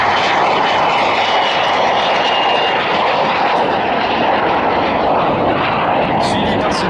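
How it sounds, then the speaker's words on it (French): A de Havilland DH-100 Vampire twin-boom jet taking off at an air show, a loud, steady roaring engine rush that fills the whole stretch, with a faint whistling tone running through it. "Au décollage, l'avion bipoutre le plus iconique, le DH-100 Vampire."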